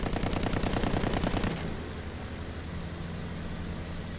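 Rapid machine-gun fire from Battlefield 1, a fast rattling burst for about a second and a half that cuts off into a steady engine drone and hiss, the shooting loud and close.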